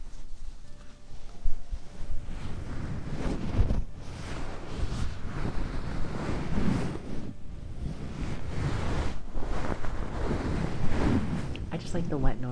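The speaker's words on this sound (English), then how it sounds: "I just like the wet noise too" A wet towel is squeezed and slowly moved close to the microphone, producing continuous soft squelching, dripping and rustling water noise in an intimate ASMR setting.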